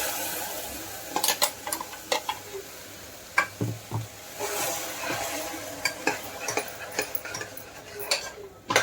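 Tomato puree going into pasta masala in a pan inside a kitchen, with a low sizzle and repeated sharp ticks and clinks of a spoon stirring against the pan, close and irregular.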